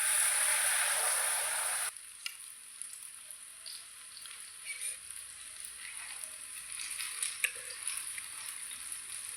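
Food fries in hot oil in a pan, starting with a loud, dense sizzle that drops to a quieter, steady crackle with scattered pops.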